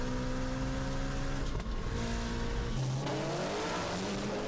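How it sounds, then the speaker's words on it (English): A Corvette C6 spins its tires while street racing in Texas: a loud, near engine roar with rising revs and a sustained tire squeal, steady throughout. "Corvettes make a very distinct sound when they spin"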